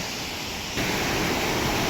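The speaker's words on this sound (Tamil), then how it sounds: "தண்ணி சவுண்டு பாருங்கள் எப்படி குதிக்கு பாருங்கள்" Water gushes through an open dam gate as a loud, dense, broadband roar that jumps up sharply partway through and then holds steady, close by and with no voices.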